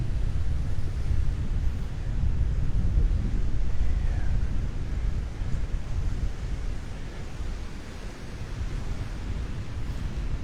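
Ocean surf rolls in steadily at Delnor-Wiggins beach, a continuous low wash of breaking waves with wind buffeting the microphone, fairly loud and unbroken, with no voices.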